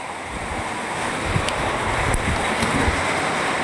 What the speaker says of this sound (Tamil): சரியான காற்றடிக்குது